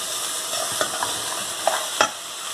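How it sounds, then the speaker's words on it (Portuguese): Two spoonfuls of homemade seasoning sauté in a pan for zucchini lasagna, a soft steady sizzle broken by a few scraping stirs near the end, no talk. "Vou deixar refogar aqui um pouco."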